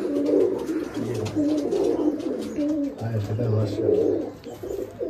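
Giribaj pigeons coo in a closed room, producing low, rolling, overlapping calls in steady repeated phrases close by, with a faint murmur of voices underneath.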